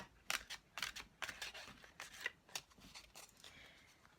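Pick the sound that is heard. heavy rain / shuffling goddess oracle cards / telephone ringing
shuffling goddess oracle cards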